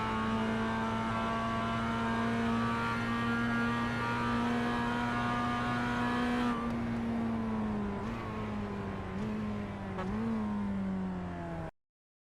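Mazda MX5 engine in iRacing at Lime Rock Park, a steady high-revving drone held loud and close, then dipping and surging with gear changes and throttle lifts through corners before cutting off abruptly.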